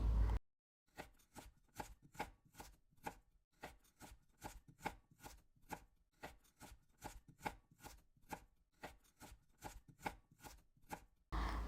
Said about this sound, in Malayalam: ഇനി കുറച്ച് ബദാമും കൂടി ഞാൻ നേരത്തെ വെള്ളത്തിലിട്ട് വെച്ചിട്ടുണ്ടതിന് അതും കൂടി ഒന്ന് ചെറുതായിട്ടൊന്ന് കട്ട് ചെയ്തെടുക്കാം